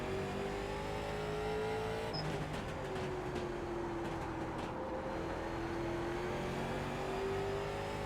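A damaged Late Model race car in the iRacing NASCAR Late Model Series at Lanier holds a steady engine drone, its pitch sliding gently up and down as it runs alone under constant background noise.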